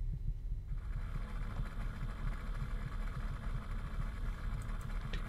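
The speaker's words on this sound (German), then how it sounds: "Der Kühlschrank ist verflucht laut." A loud, steady low hum with a throbbing pulse fills a horror video game set in a Soviet-era apartment, like a noisy refrigerator droning continuously throughout, with no talking over it.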